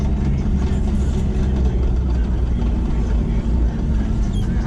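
Tuner car engine with a failing transmission, stuck in second gear, giving a loud, steady, low droning rumble throughout with no clear gear changes.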